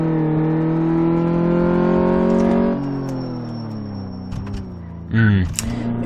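A car engine during a braking test in Car Mechanic Simulator 2014 holds a steady, loud hum, then drops in pitch as the car slows, followed by brief clicks and a short final rev near the end.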